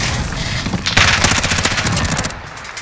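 Rapid automatic gunfire in a Call of Duty Modern Warfare 2v2 gunfight, a dense, loud rattle of fast shots sustained for a couple of seconds and close up.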